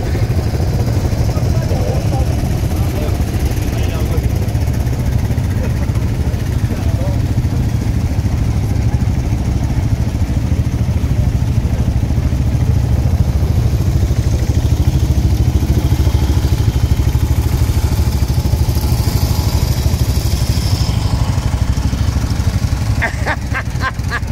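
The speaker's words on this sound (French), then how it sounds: "D'abord, c'est les motos." Rally motorcycles at the Rallye Auriol Classic start line, a steady loud engine rumble held throughout with crowd noise and chatter mixed in, and a brief rhythmic revving burst near the end.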